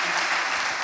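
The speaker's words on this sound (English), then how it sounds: "Give God a mighty hand clap." Church congregation giving a burst of hand clapping, a brief dense patter of many hands at close range lasting under a second.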